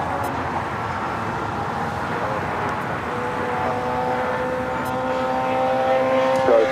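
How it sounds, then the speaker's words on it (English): An Air Tahiti Nui Boeing 787 Dreamliner rolls down runway 25 Right at LAX on its takeoff run, a steady broad jet roar holding at a distance and swelling slightly toward the end, with a faint engine whine above it. "We got Air Tahiti Nui, the Dreamliner heading to Paris, flight 8, now rolling down at 25 right."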